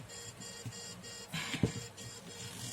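A short electronic warning tone from a gimbal with no phone mounted repeats in a steady pattern of beeps over quiet room noise, with a brief thump near the middle.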